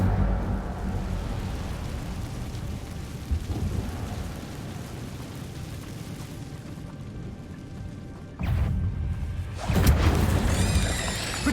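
The Incendio fire spell is cast in Hogwarts Legacy with a rumbling whoosh and low roar amid continuous stormy game ambience, followed near the end by sharper bursts and a rising crackle.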